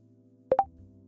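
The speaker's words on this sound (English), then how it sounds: "Yes, I know I'm getting notification sounds." Two quick chime-like computer notification blips ring out one right after the other, close and fairly quiet over a low steady hum, with no talking.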